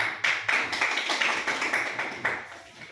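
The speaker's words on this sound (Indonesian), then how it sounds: "Boleh beri tepuk tangan untuk kelompok satu." Classroom applause for a student group, a small cluster of hands clapping in uneven bursts that gradually fade over a few seconds.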